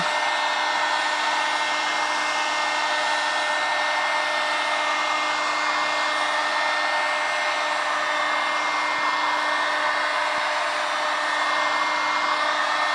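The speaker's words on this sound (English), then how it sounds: "So now I'm getting close with the heat gun on the high setting." A heat gun running on its high setting blows a constant loud whooshing roar with a steady whine while heating a car's plastic fender liner, unbroken from start to finish with no talk.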